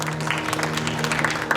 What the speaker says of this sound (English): let us give a round of applause for our first judge